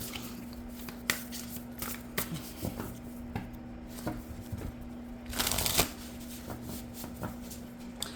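A deck of tarot cards is shuffled by hand in close, crisp riffling bursts and soft slaps, repeating unevenly over a faint steady hum, with no speech.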